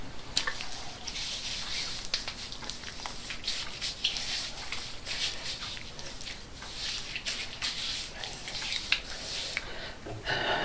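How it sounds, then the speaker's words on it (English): Water splashing and dripping while a head is washed during a razor shave, with steady close squishing, rubbing and trickling sounds across the whole stretch and no talk. "Wash the head again."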